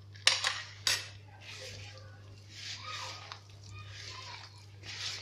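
Ingredients for jaljalania, a sesame-based sweet, are mixed in a bowl: two sharp utensil clinks against the bowl, then soft repeated scraping and squishing strokes, close, over a low steady hum.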